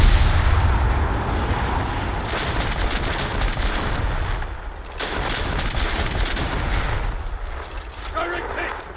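Naval guns boom in a battleship video game, a dense, loud barrage of artillery fire and rumbling blasts running continuously, with voices shouting over it.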